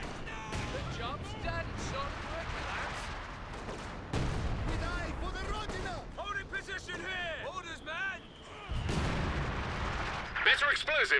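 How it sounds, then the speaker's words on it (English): Artillery barrage in Company of Heroes 2 on the La Gleize map, with repeated booming impacts and heavy gunfire rolling through the whole stretch, mostly under steady talking. "Watch it, the artillery is coming now."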